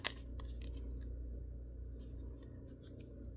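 Scissors snip close by in a quiet room: one sharper cut at the start, then a few faint, light snips spread over a few seconds, with no talking.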